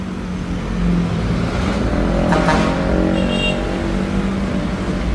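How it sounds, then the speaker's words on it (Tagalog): A diesel engine powering a one-bagger concrete mixer runs steadily at low speed, a loud, continuous rumble with a slight swell in the middle and no talk over it. "So yan, gamit sa one bagger mixer. Diesel engine."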